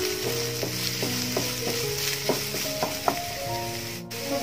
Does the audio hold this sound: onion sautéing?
yes